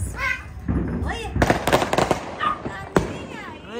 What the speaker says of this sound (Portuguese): Os fogos estão rolando